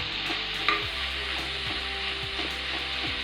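Dried red chillies and a few curry leaves crackle in hot oil for drumstick palya, a bright steady sizzle up close with occasional soft stirring taps, no voices.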